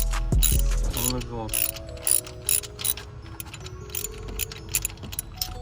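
A ratchet with a 5/8 socket loosens a part on a Dodge Charger Scat Pack during an oil catch can install, giving quick bursts of close, sharp clicking that stop and start.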